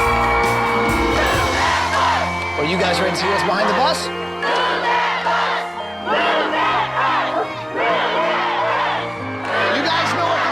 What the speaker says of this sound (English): So many people screaming and yelling and cheering.